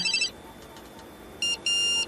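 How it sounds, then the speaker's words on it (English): A new mobile phone ringtone in a busy newsroom moments before a live broadcast, heard as a short electronic burst at the start and two bright repeating tones near the end over faint room noise. "It's my new mobile phone."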